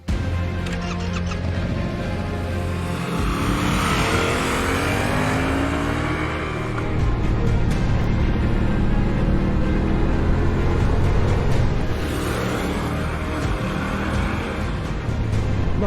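A 2021 Yamaha MT-07 motorcycle engine drones continuously while riding, its pitch rising and falling through gear changes, with wind rush, loud and close throughout.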